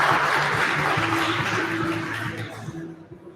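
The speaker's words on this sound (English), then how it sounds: "One more applause for us." Applause from the audience at an AI hackathon awards ceremony in Lithuania, a steady dense wash of clapping that thins and fades out toward the end, with a low hum underneath.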